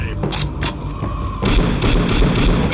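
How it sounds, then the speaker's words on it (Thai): Explosions in the video game Left 4 Dead 2, a loud boom followed by rapid bursts of gunfire and blasts crowding the scene, with the fighting growing denser halfway through. "ระเบิดเชี่ย"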